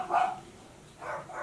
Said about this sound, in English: You may have heard my dogs barking.